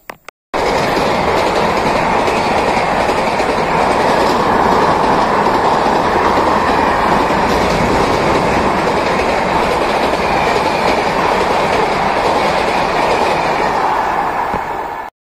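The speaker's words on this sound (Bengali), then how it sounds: "ভাই আমরা ফাইনালি ট্রেনে চেপে গেছি।" Passenger train carriage in motion on the Asansol–Ondal route, a loud, continuous close rumble of wheels on rails with steady rolling noise and no talk.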